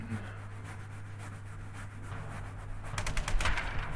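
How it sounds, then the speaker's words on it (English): Rapid machine gun fire from a first-person shooter video game, a short burst of sharp cracks arriving near the end after a quieter stretch with a steady low hum. "We got a machine gun."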